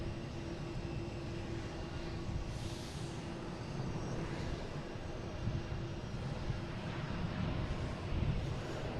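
An Azores Airlines airliner in from Ponta Delgada lands at Boston Logan airport, making a steady broad engine roar heard at a distance for several seconds with no talk over it.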